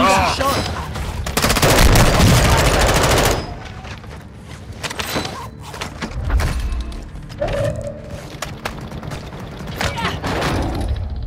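Loud, dense automatic gunfire from Call of Duty: Modern Warfare II fills the first few seconds, followed by scattered shots, thuds and in-game effects at lower level, with someone shouting over the action.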